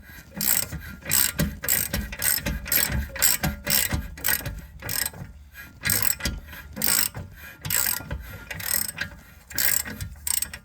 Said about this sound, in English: Swap that out for the ratchet.